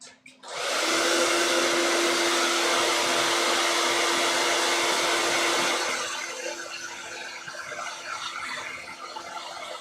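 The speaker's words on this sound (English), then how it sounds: "I just use that to blow dry the wig now instead of a box" A hair dryer switches on with a click and blasts a steady, loud whooshing roar at a wig, then drops to a lower, softer airflow setting for the final few seconds.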